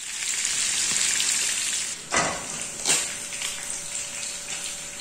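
Chicken sizzles steadily in hot oil in a frying pan on a stove, a continuous close hiss with a couple of louder spitting bursts partway through and no talk.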